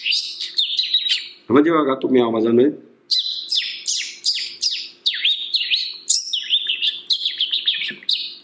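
A man imitates house sparrow chirping with his voice, producing a dense run of rapid, high tweets that continue almost without pause; in the middle he breaks off briefly to speak before resuming the chirps.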